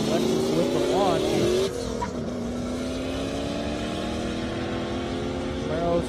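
Lexus LS and Camaro 1LE race cars launching on an airstrip: a loud rising engine howl that shifts up sharply, then a sustained high drone as the cars pull away, with a commentator talking over it.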